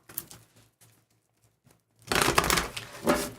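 Tarot cards being shuffled during a live reading, a dense papery riffle and rustle that starts abruptly after quieter handling sounds, close and fairly loud.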